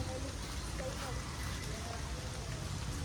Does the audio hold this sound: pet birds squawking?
no